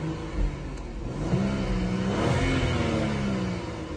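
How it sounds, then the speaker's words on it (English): A BMW F25 X3 35i engine (N55) with an AFE dryflow air filter revs up and falls back twice, a moderate rising and settling roar heard from nearby. "Do a couple of revs."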